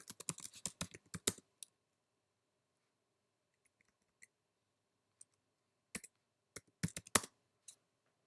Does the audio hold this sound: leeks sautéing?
no